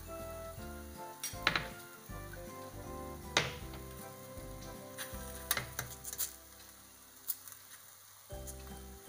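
A methi paratha fries in ghee on a pan with a soft sizzle under repeated clinks and scrapes of a utensil moving and pressing the flatbread.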